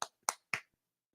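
Three light, separate claps in an even rhythm, sharp and close, followed by quiet, a sparse golf-style clap with no voices.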